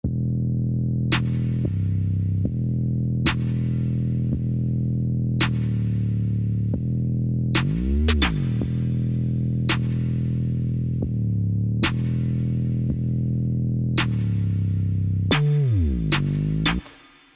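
A heavy, sustained 808 bass drones continuously while crisp snare hits land at regular intervals, the bass dipping and swelling around each hit.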